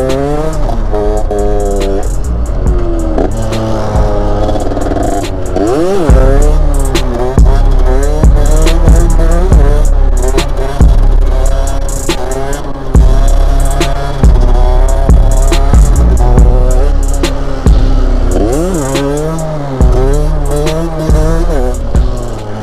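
A motorcycle revs hard in first gear while lifting into a wheelie. The loud, close engine roar climbs repeatedly in pitch through a rider's continuous run, with no talk over it.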